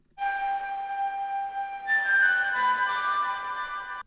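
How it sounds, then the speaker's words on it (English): A washed-out analog-style synth lead preset from a VST plugin plays alone, a sustained tone that shifts to a higher held note partway through, with soft reverb tails trailing behind. "Next, we got this kind of washed out lead, which sounds like this."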